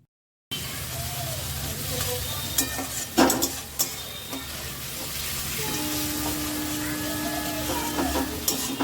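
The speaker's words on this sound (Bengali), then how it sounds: "আদা দিয়ে ভালো করে বাকি পেঁয়াজ যেগুলো আছে সেগুলো আরো ভালো করে কষাবো" Ginger and onions sautéing in a pan, a steady sizzle with utensil scrapes and a few sharp clatters, with faint background noise and no clear speech.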